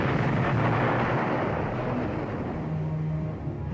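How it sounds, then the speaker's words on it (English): Japanese artillery fire pounding landing ships in heavy surf, a dense continuous roar of distant blasts and rumble, loud and close, with no voices. "they were battered by heavy surf and endless rounds of Japanese artillery fire"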